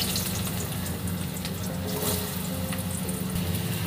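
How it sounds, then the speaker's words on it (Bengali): Potatoes fry in hot oil in a kadai tempered with nigella seeds, giving a continuous close bubbling sizzle that sounds almost like running water, steady throughout with no talk. "একদিকে পটল আলু ভাজা হচ্ছে, একদিকে পোস্তর আলু ভাজা হচ্ছে।"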